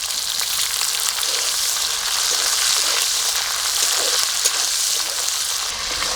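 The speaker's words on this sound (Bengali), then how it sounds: "পেঁয়াজ আদা রসুন একটু নেড়ে নিয়েছি" Onion with ginger and garlic paste fries in hot mustard oil for chicken biryani, a loud, steady, hissing sizzle that runs unbroken with faint stirring scrapes and no talking.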